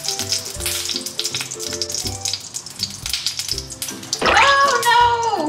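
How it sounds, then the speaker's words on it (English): Tortillas frying in a pan of oil give a continuous crackling sizzle under background music, and a voice briefly rises over it near the end. "I'm gonna add oil in there, and we're gonna fry our tortillas in there"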